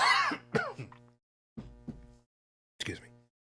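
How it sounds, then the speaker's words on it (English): A man coughs and clears his throat several times in short, rough bursts, close to the microphone, with brief silences between them and no talk. "you'll excuse me, I have to cough"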